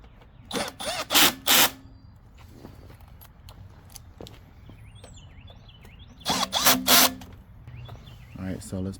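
Power drill driving screws back into the front of a PARKIT 360 device housing, two clusters of short whirring bursts separated by a quiet stretch of small handling noises, close up.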